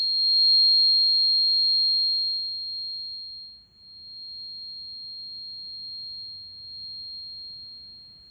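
A struck tuning fork rings with a single pure, steady tone, loud at the strike and sustained for over eight seconds with a slight wavering in level, against an otherwise silent background.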